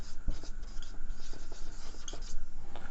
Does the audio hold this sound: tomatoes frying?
no